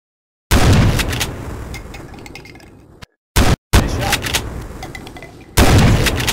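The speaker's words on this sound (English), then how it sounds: "Pick it up and take a shot at those ducks." Rifle fire in a video game duck-shooting scene, loud blasts with echoing decay, a long burst early, two short sharp cracks near the middle, then another loud shot near the end.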